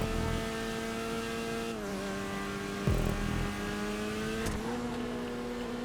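A Vagrant car's engine races in GTA 5, a steady, fairly faint tonal whine that dips in pitch with a couple of gear shifts, alone without talk.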